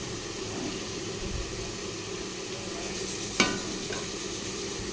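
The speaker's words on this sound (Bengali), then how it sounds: "এই চিংড়ি মাছগুলো দিয়ে দিলাম, সব মিলিয়ে একসাথে কষিয়ে নেব" Prawns and vegetables sautéing together in a pan give a continuous, even hiss of frying, with a single sharp utensil click partway through.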